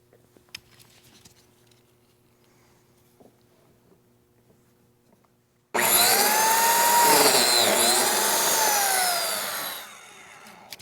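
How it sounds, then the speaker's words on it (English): Biscuit joiner cutting a slot into a 3/4 inch wooden apron board in a workshop, a loud close whine starting abruptly after quiet and running about four seconds before spinning down. "first thing I'm going to do is mill the biscuit slot on the apron"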